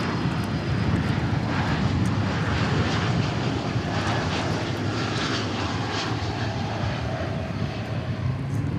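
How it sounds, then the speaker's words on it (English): Airbus A321neo jet airliner arriving from Los Angeles at Dallas Fort Worth Airport, a loud, steady broadband engine roar and rumble that holds constant for the whole stretch with no talk over it. "This in from Los Angeles on an A321neo."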